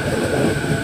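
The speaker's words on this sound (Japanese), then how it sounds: "まもなく一番線に当駅始発各駅停車八王子行き" A four-car Hachiko Line local train arrives at platform 1 of Minami-Furuya station, a loud, continuous, close rumble of the train with no voices during this brief moment.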